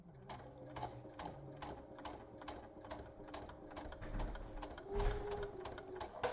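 A sewing machine runs quietly and steadily while stitching thread chains for a heart garland, its rapid needle ticking forming an even rhythm, with a brief heavier thump near the end.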